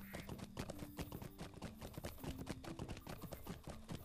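Horse hooves in the Lord of the Rings Online game clip-clop in a fast, steady rhythm, faint and continuous alongside quiet game background sound.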